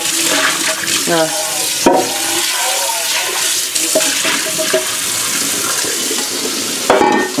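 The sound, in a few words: rinsing with hot water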